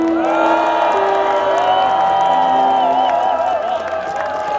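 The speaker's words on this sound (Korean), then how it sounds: "큰 박수 한번 드리시죠." A crowd at a national emergency prayer rally in Sejong, South Korea, cheers and claps steadily, with whoops and shouts rising above a continuous roar of many voices.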